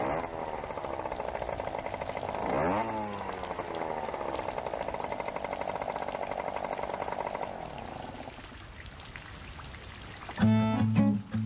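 Rain falls steadily in a constant pattering hiss that fades after about eight seconds, with a short louder burst of other sound near the end.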